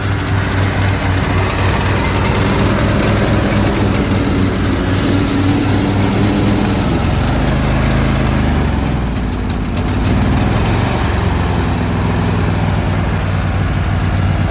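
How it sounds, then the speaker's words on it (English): A zero-turn lawn mower engine running loudly and steadily nearby, its pitch dipping and wavering midway as it bogs down before recovering, with no voices. "the engine is bogging down. It doesn't want to stay running."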